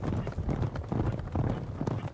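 Heavy steeplechase horses gallop in a fast, rumbling run of hoofbeats, dense and thudding at close range, with a voice faintly present.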